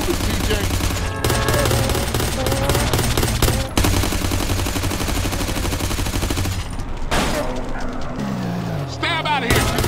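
Rapid bursts of automatic gunfire crackle loud and close during a drive-by shootout in GTA San Andreas, with dense overlapping shots and game voices talking over them. A revving car engine and a tire screech come in toward the end.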